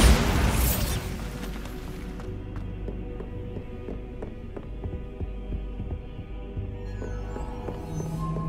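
A Bombarda blasting spell in Hogwarts Legacy bursts with a loud, close explosion at the start, then fades into a low rumbling hum with scattered faint pops and knocks.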